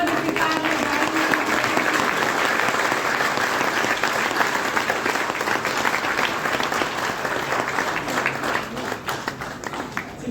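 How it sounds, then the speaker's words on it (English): A large audience at a National Association for the Blind event in a Worli hotel claps loudly and continuously for a blind women's cricket champion, a full dense roar of applause lasting throughout. "let's clap for Deepika and the Blind Women"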